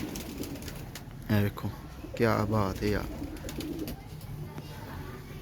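Rampuri pigeons at the Shahdara pigeon market in Lahore give a few deep, throaty rolling coos in short bursts, heard close over low background noise while someone talks.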